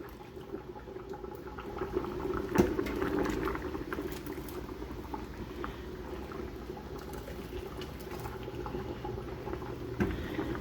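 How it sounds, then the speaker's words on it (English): Pineapple zucchini and its juice are ladled through a funnel into glass canning jars, making soft, faint sloshing and pouring with an occasional light clink of the ladle against glass, and no talking. "we are going to ladle it into the jar"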